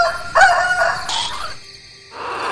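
A rooster crows once, a loud bright call near the start that trails off, with a quieter second sound at the end, heard alone without speech.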